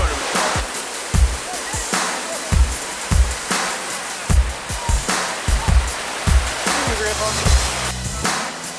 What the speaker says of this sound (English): What's this waterfall called?